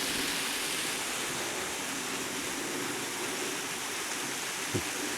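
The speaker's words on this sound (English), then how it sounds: "Water coming over the edge there." Water pouring over the edge of a waterfall at Pikes Peak overlooking the Mississippi River, a steady, dense roar of falling water heard from a distance, with one brief thump near the end.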